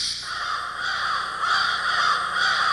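A huge flock of crows roosting in the Nova Scotia town of Kentville caws continuously, a dense overlapping chorus of harsh calls that swells in waves, loud and steady with no speech.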